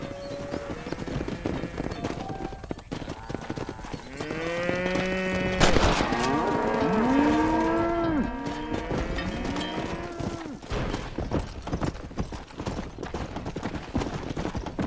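A cattle herd on a ranch in the Red Dead Redemption video game, with steady clip-clopping hooves throughout and several cows mooing loudly in the middle, overlapping one another.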